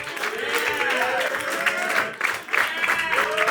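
A comedy roast battle crowd in New York claps and cheers to welcome a comedian, steady applause filling the room with brief swells, voices mixed into the noise.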